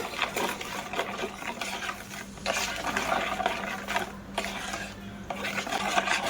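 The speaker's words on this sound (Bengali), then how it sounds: "আমি ওর মধ্যে উষ্ণ গরম জল দিয়ে দেব। দিয়ে এবার ভালো করে মিশিয়ে নেব।" Warm water and powdered milk mixed in a bowl by hand, continuous close rubbing and scraping swirls with soft wet sloshing, no talk.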